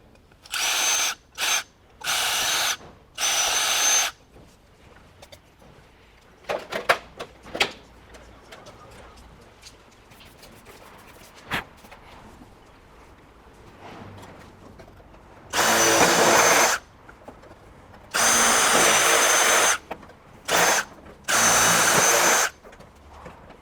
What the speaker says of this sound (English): I'll just drill some extra holes in the cast angle